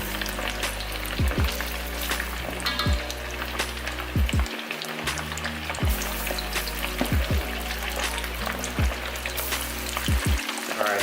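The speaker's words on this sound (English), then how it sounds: "Let them fry up. You want to be careful, stand back so they do not explode on you." Korean fried chicken pieces, a few at a time, sizzle and crackle steadily in hot oil, a dense continuous frying hiss with occasional sharper pops and low clunks, close and loud with no talking.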